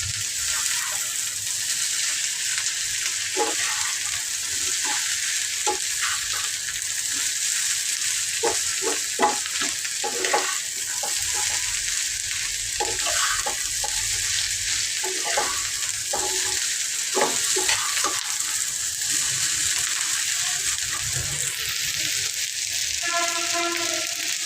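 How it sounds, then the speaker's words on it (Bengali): Bitter gourd slices (karela bhaji) fry in hot oil with a steady, bright sizzle that runs without pause, broken now and then by faint stirring clicks. No one speaks. "আর হয়ে যেতেছে করলা ভাজি"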